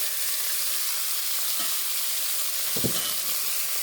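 Meat fries in a hot pan with a constant bright sizzle, interrupted by a couple of brief, louder spits and pops near the end, with no talking.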